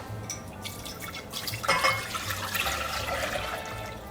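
Water splashes and trickles into a saucepan, a steady liquid pour of about 4 cups with a brief louder gush midway, no talking.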